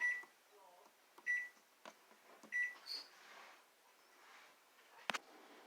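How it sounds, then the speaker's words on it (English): Three short, high-pitched electronic beeps spaced about a second apart, fairly quiet, with faint clatter around them. "Now I'm going to time the microwave"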